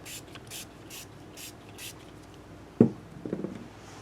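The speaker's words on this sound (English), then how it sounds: "Spray that a little bit on here." Five short, evenly spaced spray hisses of guitar cleaner from a spray bottle onto a Jay Turser resonator guitar, followed by a sharp thump and some soft rubbing.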